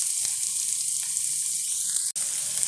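Chopped onions and dried red chillies sizzle steadily in a hot pan, a continuous close frying hiss with a few faint clicks and a brief utensil tap, no voices.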